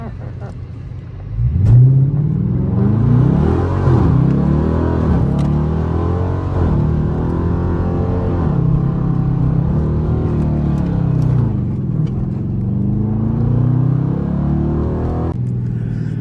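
A 400hp Dodge Charger RT engine roars at night, revving up and down in repeated surges as the car spins, loud and close with rumbling lows, while someone talks over it.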